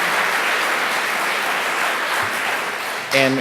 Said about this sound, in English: please give our panelists a big round of applause